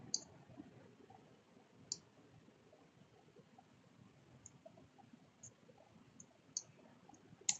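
A computer mouse clicks faintly while someone works in Photoshop, with sparse, sharp single clicks spaced a few seconds apart over a low background hum.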